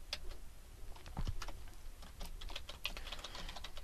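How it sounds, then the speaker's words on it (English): Keys tapped on a computer keyboard during text editing, a steady run of quick, light clicks at close range with no voices. "what you're going to do is just simply start typing"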